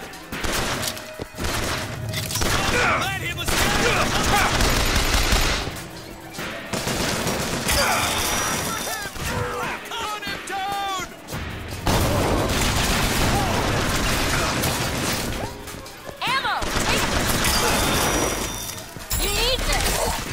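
Repeater machine gun in BioShock Infinite fires in long bursts amid loud chaotic combat, with crashes and impacts layered over the shooting and voices shouting throughout.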